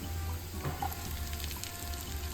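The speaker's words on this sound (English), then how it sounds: "This too you want to saute for 2 or 3 minutes to get it to start to soften a little bit" Celery and garlic sautéing in a pan, a faint, steady, low sizzle with soft scattered crackles and no talking.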